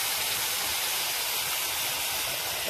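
Thickened milk hits a hot pan of lightly fried grated coconut and erupts into a loud, continuous broadband hiss of steam and sizzling, close up and unbroken.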